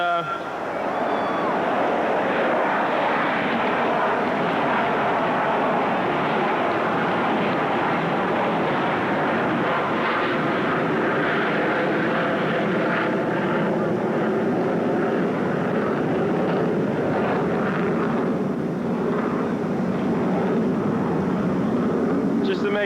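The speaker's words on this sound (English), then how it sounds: "just to make sure we didn't forget about the airplanes" An airplane drones overhead at the US Open tennis stadium in 1984, a sustained rumbling engine roar that stays loud throughout while someone talks over it.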